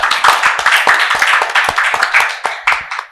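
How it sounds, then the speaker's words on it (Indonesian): A small group claps hands for a guest on an Indonesian talk show, sparse and close, with distinct claps in a loose, uneven rhythm and a little speech among them. "kita tepuk tangan"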